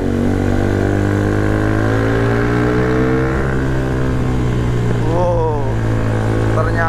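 Bajaj Pulsar 220 supermoto, bored up to 250cc, ridden fast. Its engine gives a loud, close, continuous drone that climbs in pitch as it pulls, with a voice heard briefly over it.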